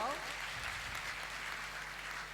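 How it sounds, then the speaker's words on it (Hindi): Audience applause at a parents' honouring ceremony in Katni, a steady wash of clapping filling the hall over a low electrical hum, with voices mixed in throughout. "एक बार जोर से तालियां बजा के बजाओ"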